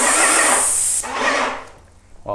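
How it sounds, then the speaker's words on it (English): A paint spray gun firing a test spray at adjusted air pressure, a loud broad hiss for about a second, a short break, then a second softer burst of spray before near silence and a faint click. "turn up the pressure control just a little bit more, and then we'll do another test spray"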